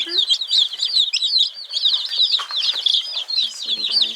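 Baby chicks in a brooder fill the air with dense, high, rapid peeping, near and continuous, broken by brief rustles and soft wing flutters.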